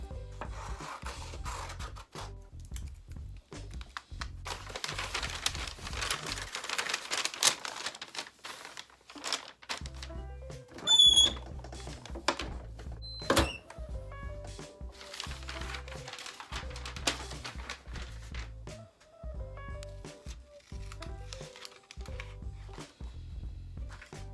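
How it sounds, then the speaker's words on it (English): Scissors or a blade cutting around a printed sublimation design on sheet paper, giving steady rasping, crinkling strokes of the paper that run through most of the stretch, close and moderately loud, with a few brief pauses between cuts. "So I'm just gonna cut around this."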